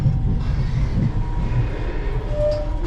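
A passenger train pulls away from Cardiff Central station on a hot day. Inside the carriage there is a steady, loud low rumble with faint rattles and a brief squeal, and no voices are heard.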